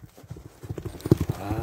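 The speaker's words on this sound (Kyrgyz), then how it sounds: "чуркасы аябай жеңил ат экен" Hooves of a horse running on a farm clip-clop in quick, irregular beats, close and growing louder toward the end, with a voice faintly present beneath the hoofbeats.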